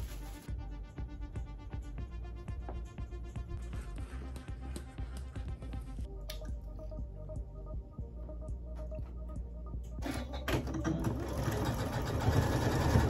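A home sewing machine stitches fabric for a Barbie-inspired dress, running as a steady rhythmic whirring hum that pauses briefly and then picks up again, louder toward the end.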